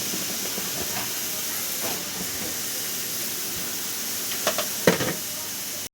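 Tilapia fish and pointed gourd slices hit a hot oiled pan, giving a steady broadband sizzle and hiss throughout, with a few sharper spatters and clicks near the end before it cuts off.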